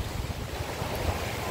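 Sea waves wash steadily near a former seaside home, a soft continuous surf rumble blended with light wind, fairly faint and without voices.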